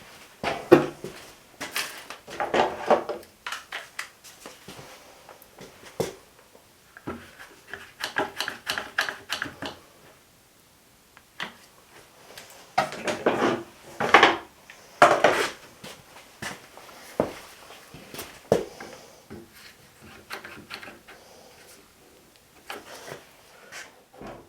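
Clamps are fitted onto a wooden piece set in place on a boat build, producing bursts of close metallic clicks, ratcheting and knocks separated by short pauses.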